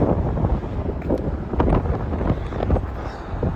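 Strong wind buffets the microphone outdoors on a Toronto street near the CN Tower, a loud continuous roar with gusty surges and no speech.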